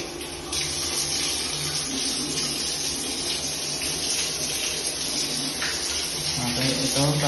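Water running steadily from a shower tap in a newly turned-over condo bathroom, a constant close gushing hiss with a voice talking over it near the end.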